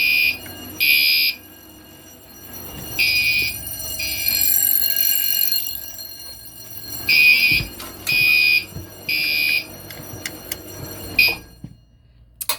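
An ESL T-Bar pull-station fire alarm sounds after a test, giving loud, piercing electronic tones in repeated short bursts with brief gaps, ending as it is silenced.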